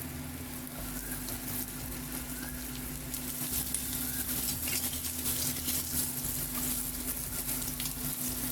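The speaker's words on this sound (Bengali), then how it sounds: "এরপর এই তেলে আমি দিয়ে দেবো আলুগুলো একটু বড় করে কেটে নিতে হবে" Large-cut potato pieces fry in hot oil for Bengali shukto, a steady dense sizzle with light crackle and occasional stirring scrapes, close and continuous.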